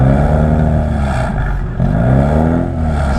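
A loud, continuous exhaust drone with a raspy low hum around 2,000 rpm from a BMW with resonated downpipes and an equal-length mid pipe, one exhaust valve unplugged, rising and falling slightly as the car cruises.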